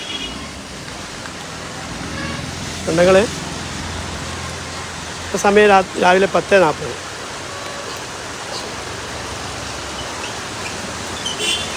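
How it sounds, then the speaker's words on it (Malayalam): Steady daytime rain falls as a continuous hiss over a village market, with someone speaking briefly in short bursts over the wash of rain. "ഇന്ന് മുതൽ പകൽ തന്നെയാണ് മഴ കേട്ടോ"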